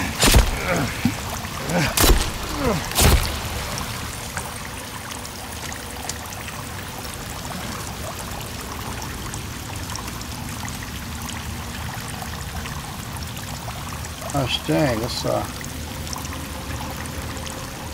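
Water flows in a cave in the video game Sons Of The Forest, a steady rushing trickle under sharp clicks and thumps, with a brief spoken exclamation near the start.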